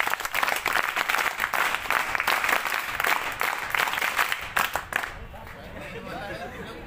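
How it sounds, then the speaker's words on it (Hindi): Scouts and guides clap together at the closing session of a training programme, a loud burst of group applause with chatter mixed in that stops abruptly, leaving quieter background voices. "स्काउट गाइड ताली बजा।"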